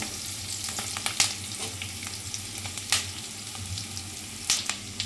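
Onions with ginger garlic paste sizzle steadily in a hot pan, a continuous crackling fry with occasional sharper pops and stirring scrapes, close and moderately loud with no talking.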